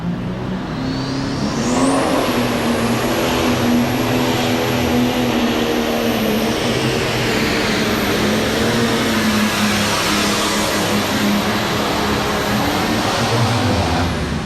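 A John Deere 6030 pro stock pulling tractor roars continuously at full throttle at a 1998 Louisville tractor pull, loud and sustained with a deep droning tone, straining down the track.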